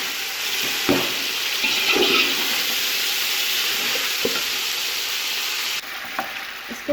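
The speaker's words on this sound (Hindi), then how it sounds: "अब मैं इसमें ऐड कर रही हूँ टमाटर और इसको मज़ीद 2 से 3 मिनट तक के लिए फ्राई कर लूँगी।" Tomatoes added to chicken sizzle loudly and continuously in a hot pan, a dense frying hiss with a few knocks of a utensil, dropping slightly in intensity near the end, no talking.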